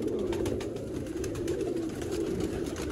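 Red-eyed pigeons coo in low, repeated rolling calls, fairly close, over a soft continuous background murmur with faint fluttering ticks, in Sialkot, Pakistan.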